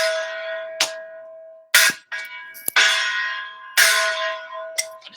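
A gong or similar metal percussion struck several times, each loud clanging hit ringing out with a long sustained tone before the next strike, played alone with no talk.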